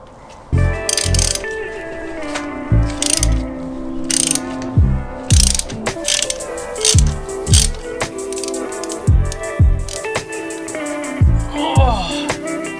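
Threading plugs into engine holes on a turbo M54 BMW E46 build: close, loud bursts of ratcheting and metallic clicks in irregular spurts with brief clanks between.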